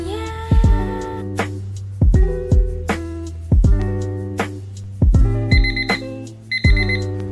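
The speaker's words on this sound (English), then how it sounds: "So the timer went off" A kitchen baking timer goes off while strawberry bread bakes, ringing in loud repeated bursts of bright electronic chimes with short gaps, close to the mic and with no talking.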